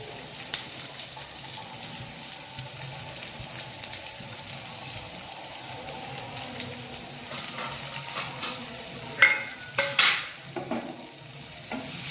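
Onions sauté in a pan for kadalai curry as a low steady sizzle under stirring, with a few louder clatters and scrapes near the end.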